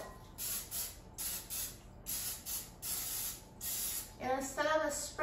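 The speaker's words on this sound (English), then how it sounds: "So let's spray it with a cooking spray." Nonstick cooking spray hissing from an aerosol can in a series of short, close bursts into a muffin tin, with a brief voice near the end.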